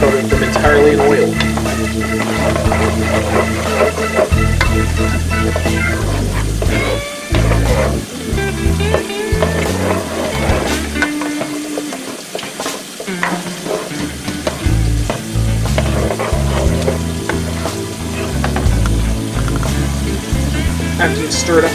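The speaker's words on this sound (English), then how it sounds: "Make sure you stir the potatoes to coat them entirely in oil." Potatoes for home fries sizzle loudly in hot oil while being stirred in a pan, with repeated scraping and clattering utensil strokes over the continuous frying hiss and a few brief pauses.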